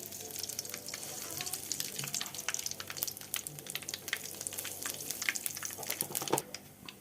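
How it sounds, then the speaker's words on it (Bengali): Nigella seeds and other whole spices frying in hot oil for a Bengali dish, a steady, fairly quiet sizzle dotted with sharp crackles and pops throughout, with no one talking. "মশলাগুলো ভাজা হয়ে গেছে, মশলাগুলো হয়ে গেছে। কালো জিরে দিয়ে দিলাম।"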